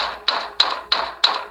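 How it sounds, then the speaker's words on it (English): In an animation, someone bangs on a classroom door, four evenly spaced, sharp knocks falling in a steady rhythm, close and fairly loud, with nothing else heard. "The banging on the door only grew worse"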